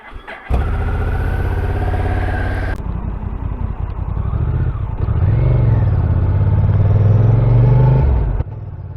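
Honda Africa Twin motorcycle engine firing up with one-touch electric start, then idling loud and close with a deep steady throb, rising briefly in pitch as it is blipped before cutting off.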